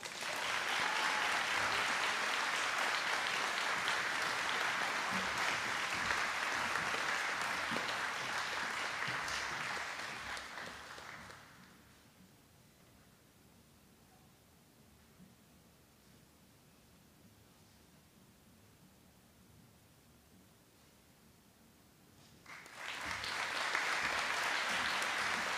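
School closing-exercises audience gives sustained applause for award winners, a broad even roar of clapping that stops for about ten seconds of quiet room tone before a second burst of clapping rises again.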